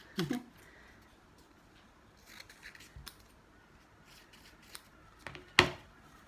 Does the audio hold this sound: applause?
no